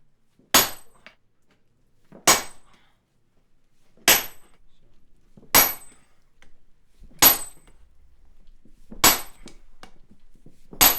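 Seven hard, ringing hammer blows fall at a slow, even pace while forging a round swage at an anvil, each a sharp metallic strike followed by a short decay and near silence.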